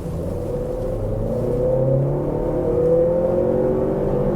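A 2017 Ford Escape Titanium compact SUV's turbo engine revs up and pulls steadily, its pitch climbing through the gears as it accelerates, heard from inside the cabin with no talking.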